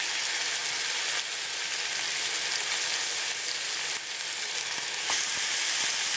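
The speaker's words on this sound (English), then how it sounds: "we've got some olive oil heated in this pan, so we're going to go ahead and lay in the meat" Marinated sirloin steaks fry in hot olive oil in a pan, giving a steady, loud, broadband sizzle that runs the whole time with small crackles and spits and no talking.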